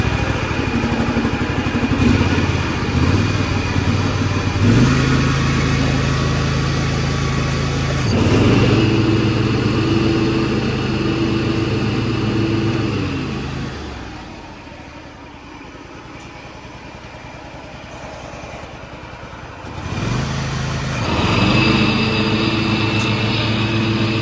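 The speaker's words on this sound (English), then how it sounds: "We're gonna crank it up, engage the PTO" Gravely 48-inch hydrostatic zero turn mower engine running loud and close, steady rumble with shifts in pitch as the PTO engages, dropping quieter for a few seconds before revving back up.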